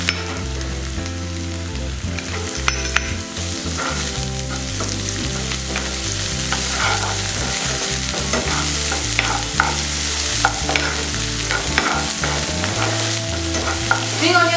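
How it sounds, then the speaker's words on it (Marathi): Vegetables and spring onion for spring rolls stir-fry on a high flame, a loud, steady sizzle broken by frequent scraping and tossing strokes in the pan, with no talking. "आमकां all the vegetables in high flame fry करपाचे आसा."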